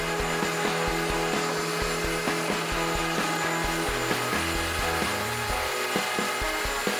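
Wooden parts for a queen bed frame with tufted headboard being smoothed by a sander, giving a steady rubbing, scraping drone with rhythmic strokes throughout, close and continuous with no talking.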